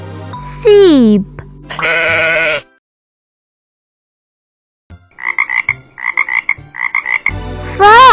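A quick run of short, rhythmic frog croaks comes in clustered pulses after a pause, framed by bleating and cheerful children's music at the start and end.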